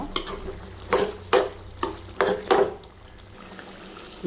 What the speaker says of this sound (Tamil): மசாலாவை நல்லா கிளறுவோம்